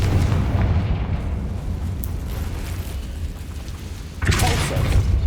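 A Confringo fire spell explodes in Hogwarts Legacy, a rumbling boom over steady low game background, with a sharper burst hitting near the end.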